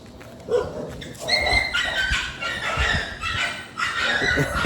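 Several dogs near a temple in Hyderabad bark, yip and whimper in overlapping bursts, close and fairly loud throughout.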